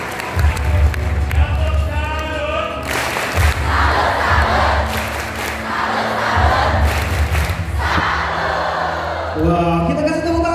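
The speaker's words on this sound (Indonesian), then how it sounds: "kita kasih tepuk tangan yang meriah sekali lagi untuk Depok dan Indonesia" A large audience at a children's singing competition show in Semarang, Central Java, claps and cheers loudly in sustained waves, with shouts rising through the crowd noise and a host's voice heard at the start and end.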